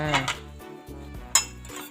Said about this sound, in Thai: มาเปิดฝาหม้อดูกันค่ะ